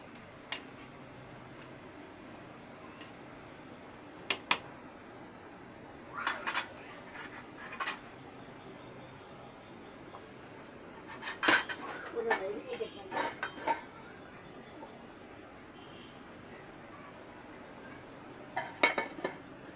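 A ladle or spoon scrapes and clinks against a metal pot of hilsa fish and snake gourd curry: sparse, close metallic knocks and stirring scrapes in short bursts, separated by quiet pauses.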